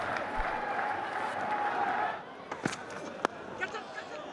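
Cricket crowd at an Afghanistan versus South Africa one-day international applauding a batsman leaving the ground, a broad distant roar of clapping that fades after two seconds into scattered claps and crowd murmur, with commentary voices over it.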